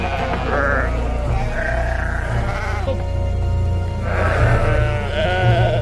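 Sheep bleating among livestock in a film scene, several drawn-out bleats rising and falling in turn, close and loud over a low background rumble.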